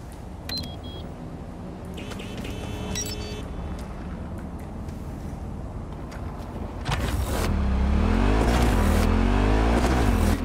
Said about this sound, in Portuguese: Vou pegar a moto, vai.